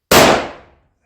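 A single loud, sharp crack of a custom .220 Swift rifle firing at a pumpkin target outdoors, with a sudden onset and a fast decaying tail lasting under a second, heard alone.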